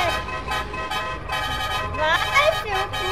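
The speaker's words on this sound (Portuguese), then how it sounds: "Ó a buzininha!" A car horn in GTA 5 gives a string of short toots and longer honks, loud and close, pulsing in an uneven rhythm with excited talk around it.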